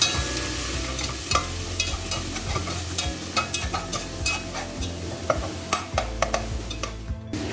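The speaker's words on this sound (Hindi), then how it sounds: "पिसा हुआ प्याज डाल के इसको तकरीबन मैंने 3 से 4 मिनट तक भूनना है इस मसाले को" Ground onion masala fries in a pan, a steady sizzle with repeated scraping and clicking of a spoon stirring it, close by over a soft background hum.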